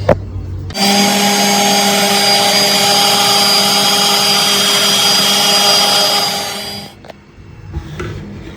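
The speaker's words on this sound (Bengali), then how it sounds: "সুজিগুলো দানা দানা ব্লেন্ড করে নিলে সুন্দর একটা স্মুথ টেক্সচার হয়ে যাবে এই কারণেই ব্লেন্ড করব" A blender grinding semolina, a loud steady high-pitched whirring roar running for about six seconds, then cutting off abruptly, with no talk.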